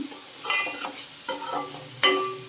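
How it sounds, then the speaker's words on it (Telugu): Grass carp fish sizzles in a pan for a tamarind fish stew, with three distinct stirring scrapes cutting through a steady close frying hiss. "మధ్య మధ్యలో కలుపుకుంటూ ఫ్రై చేసుకోవాలండి"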